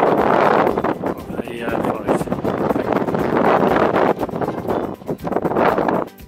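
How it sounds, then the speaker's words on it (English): Strong wind buffets the exposed hilltop of Moel Famau by the Jubilee Tower, a loud, roaring gusty rush with microphone buffeting that rises and falls throughout. "I am hand holding the camera because it's extremely exposed and very windy."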